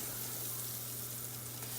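Eggs fry gently in a medium-sized pan on medium heat, giving a soft, steady, quiet sizzle with no talking.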